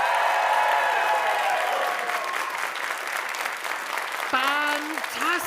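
Loud audience cheering and applause from a crowd at a live comedy improv show, a dense sustained roar that gradually thins, with a shouted voice rising near the end.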